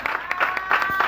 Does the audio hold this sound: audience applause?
yes